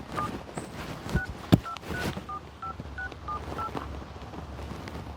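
Telephone keypad tones beep one after another at a steady, uneven pace as a number is entered, fairly close and clear over faint room noise, with a couple of sharp knocks early on.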